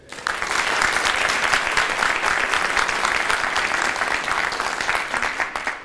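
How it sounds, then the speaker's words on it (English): Sustained applause from a sizable crowd, steady clapping filling the room for several seconds without a break. "Let us give them an applause."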